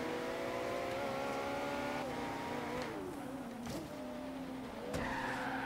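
A McLaren in the racing video game Forza Horizon 3 drives hard with a loud continuous engine drone, shifting pitch as it revs, with tires squealing and skidding through corners.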